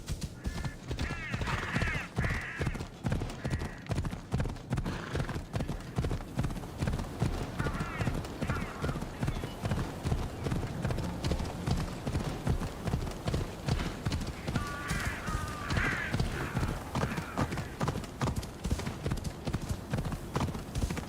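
A horse gallops in Assassin's Creed Odyssey, its hooves thudding in a fast, steady rhythm close by, with occasional whinnies and snorts and a voice calling out over the pounding.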